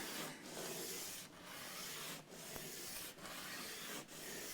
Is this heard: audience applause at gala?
no